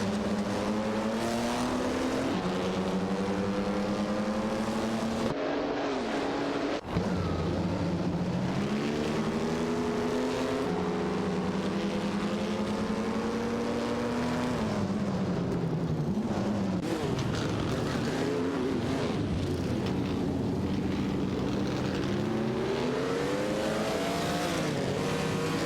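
Alfa Romeo 12C and Auto Union Type D race cars in a racing video game, engines wailing and rising through gears continuously, several cars overlapping in a loud, sustained roar with occasional tire squeal.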